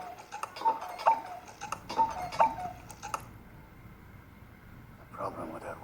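Rhythmic tick-tock of a clock from the new Pinocchio movie, regular sharp ticks about once a second for three seconds, then quieter background with a brief rustle near the end.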